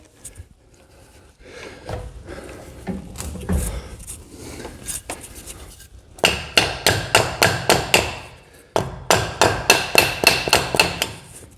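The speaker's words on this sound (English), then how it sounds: "It's working better by tapping it with a hammer." Hammer tapping on a hydraulic steer cylinder part from a man-lift held in a vise, first scattered knocks, then two fast, loud, evenly spaced bursts of metallic blows with a short pause between.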